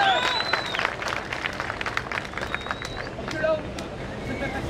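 Crowd applause at a gym fitness competition stage event, a continuous clapping wash with some whistles and a voice talking over it.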